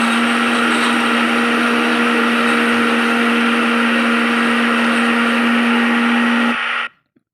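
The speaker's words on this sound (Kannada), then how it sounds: "ಬನ್ನಿ ಇವಾಗ ಮಿಕ್ಸಿಗೆ ಹಾಕ್ಕೊಳ್ಳೋಣ." A kitchen mixie whirs steadily while blending a strawberry milkshake of milk and ice cream, a loud continuous motor drone with a bright, even pitch that stops abruptly near the end, followed by silence.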